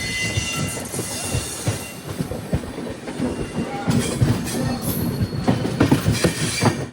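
A general class train carriage running between Jamshedpur and Howrah rumbles steadily with rhythmic clickety-clack and brief wheel squeals, loud and continuous from inside the coach.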